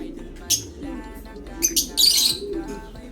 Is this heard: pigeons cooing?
yes